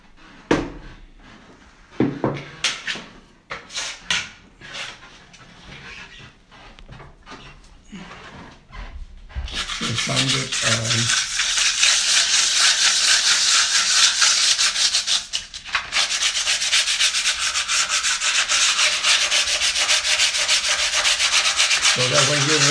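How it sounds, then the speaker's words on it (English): A patched wall is sanded: a few scraping and handling knocks give way to a continuous loud, close abrasive rubbing that carries on steadily to the end. "So the first thing we're gonna do is sand it."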